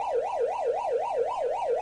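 A Korg Kaossilator synthesizer plays a steady siren-like wail that sweeps up and down about eight times in under two seconds. The tone is smooth and rising and falling, with no talking over it.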